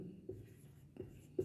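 Pen or marker writing a math expression during an algebra lesson, a few faint short strokes and taps spaced across a quiet background.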